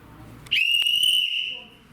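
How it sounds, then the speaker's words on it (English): A coach's whistle is blown once, a loud, sustained shrill tone lasting about a second, during a wrestling seminar with a low murmur of indoor room noise before and after. "When I blow that whistle, you know what time it is."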